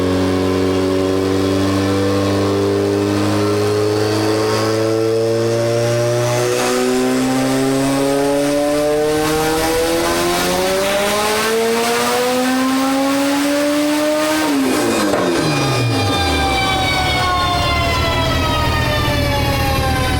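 Acura Integra engine revving hard on a dyno, a loud continuous wail climbing steadily through the revs, then cutting off and falling away sharply into a winding-down whine.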